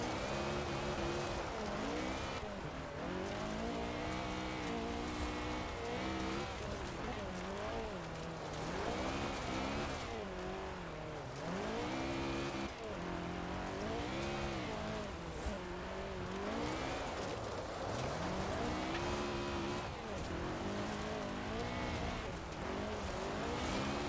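A car drifting in Forza Horizon 4 with a continuous engine roar that revs up and down in waves, tire squeal running alongside, loud and close throughout with no talk.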